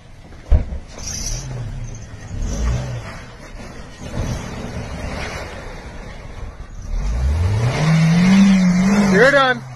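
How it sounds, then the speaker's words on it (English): A car roars and revs as it speeds off, engine pitch climbing toward the end, with tire squeal and a thump early on, mixed with people talking and shouting in the background. "he tries to take off in his car"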